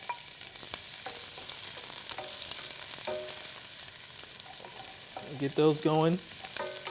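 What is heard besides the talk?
onions sauteing in hot oil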